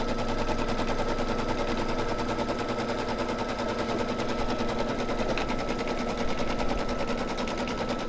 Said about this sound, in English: So it's just going to do an outline to show you the placement stitch